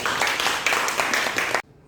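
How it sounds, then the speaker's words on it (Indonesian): A class applauds one student group with dense, steady clapping that fills the room, then stops abruptly. "Oke, tepuk tangan dulu untuk kelompok 1."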